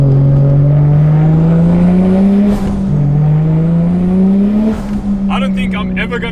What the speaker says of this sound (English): I don't think I'm ever gonna have a car that sounds better than this